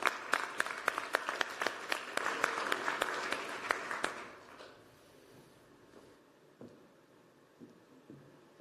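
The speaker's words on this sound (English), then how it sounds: "Warm round of applause." An audience applauds a deputy minister at a European ocean conference, a fairly distant round of clapping for about four seconds that dies down into room murmur and scattered claps.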